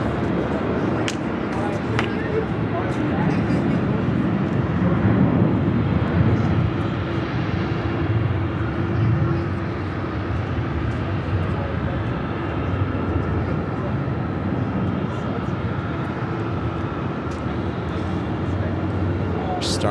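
A Boeing 777-300ER airliner at LAX, heading to Taipei, gives a steady, broad jet engine roar. The roar holds loud and continuous throughout, with faint talk beneath it.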